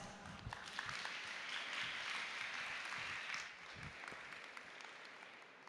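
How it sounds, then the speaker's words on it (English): Audience applause at a research-week talk welcoming a UX researcher to the stage: dense, steady clapping from a crowd, fairly distant and even, easing slightly toward the end, with no talk. "Please give her a round of applause."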